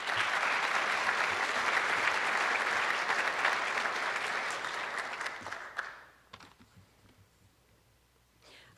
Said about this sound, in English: please join me in giving a round of applause for Annie Pappenhagen